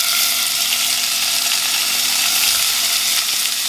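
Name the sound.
shrimp sautéing in olive oil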